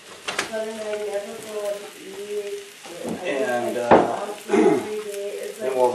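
A Mexican pizza fries in olive oil in a pan on medium-high heat, with a steady sizzle running throughout. Louder bursts of crackling come near the end, and a voice speaks over the sizzling.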